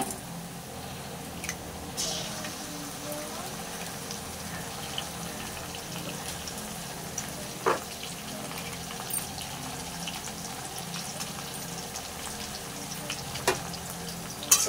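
An egg added to partly boiled potatoes frying in a pan for chowmein gives a steady, moderate sizzle with occasional sharper crackles and spatters, with no voices.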